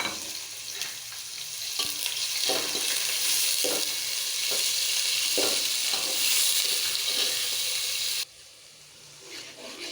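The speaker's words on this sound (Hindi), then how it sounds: "इसमें मैंने ये जो प्याज काट के रखे हैं ये ऐड कर रही हूँ" Chopped onions dropped into hot oil for kadhi pakora, frying with a steady loud sizzle and occasional stirring clatter throughout, easing off near the end.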